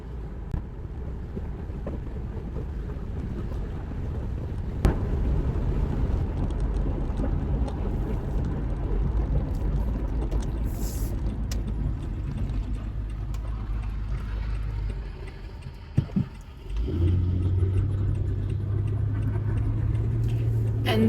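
A car driving along a country road in North Carolina, a steady low engine and road rumble with wind noise throughout, a brief dip and shift in tone near the end.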